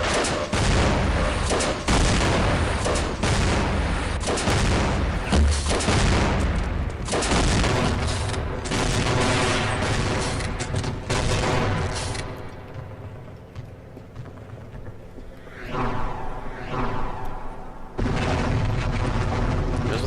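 Dense, loud gunfire and explosive booms in the shooter Half-Life, with rapid bursts stacking into sustained suppressing fire before easing into scattered shots and rumbling blasts.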